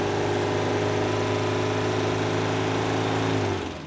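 A 1972 Porsche 914 mid-engine car running, its engine giving a steady buzzing drone with layered harmonic hum, close and loud, holding evenly before easing off at the very end.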